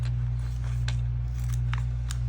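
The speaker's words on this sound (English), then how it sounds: "So we are gonna cut these off" Scissors snip through plastic binder pieces in a few quick, crisp cuts over a steady low hum, close and fairly quiet.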